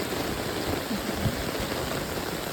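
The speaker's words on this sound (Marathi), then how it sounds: "पावसाचा वेग भाई साहब" Heavy monsoon downpour on Konkan rice fields at transplanting time, a thick continuous hiss of falling water, close and constant, with no talking.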